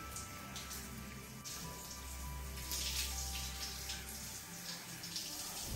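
Lukewarm water runs steadily from a tap while hair is being washed, a soft continuous splashing and trickling with scattered drips, close by and quiet, with no one speaking.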